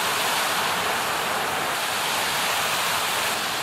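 Water rushes down a creek cascade at Borer's Creek, a constant close hiss and roar of falling water that holds steady throughout.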